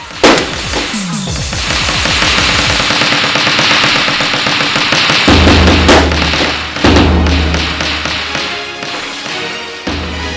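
Staged gunfire as soldiers fire on protesters in a school drama about British colonial rule, with rapid volleys of loud close shots and heavy thumps over about ten seconds, no talk.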